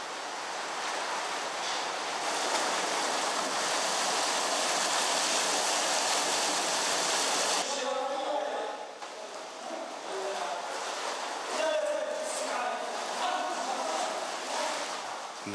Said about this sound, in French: le débit de la rivière augmente par de fortes résurgences, sortant des parois de la galerie souterraine, avec un bruit de plus en plus fort